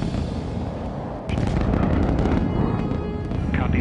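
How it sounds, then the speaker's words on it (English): An Ares V rocket blasting off. A steady, heavy roar rumbles throughout, with a harsher crackling surge partway through, loud and sustained, with no voices. "Ares 5 blasts off next, carrying everything the crew will need for step two,"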